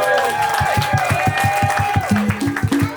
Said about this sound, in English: just a big round of applause to Mile for leading that class